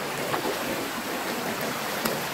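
Water flowing along a river in a rural province, where people bathe and wash clothes, makes a steady, continuous rush with a soft broadband hiss and no voices.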